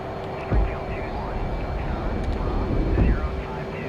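A jet engine on a Hornet throttles up for takeoff, a steady roar building under a voice speaking over it, with a couple of thumps.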